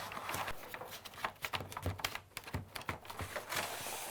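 Painter's tape is unrolled and pressed along an old baseboard heater in a series of quiet, close crackling and ticking bursts. The peeling chatter is irregular and there is no speech.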